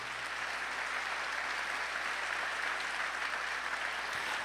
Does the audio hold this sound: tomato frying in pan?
no